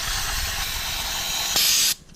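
Aerosol spray hisses steadily onto a carburetor area during a yearly cleanup of an engine stored with E85 fuel, one continuous close burst that swells louder near the end before cutting off.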